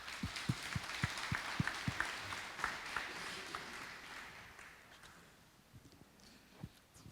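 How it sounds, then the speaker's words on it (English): Scattered applause at a conference closing plenary, a few distinct claps up front followed by thinning, fading clapping from a modest audience, fairly faint and distant. "And a round of applause for him too."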